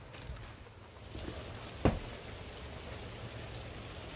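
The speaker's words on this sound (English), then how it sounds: "as you can see, it's raining" Steady rain falls outdoors with a soft, even hiss, faint and continuous throughout, broken by one brief knock partway through.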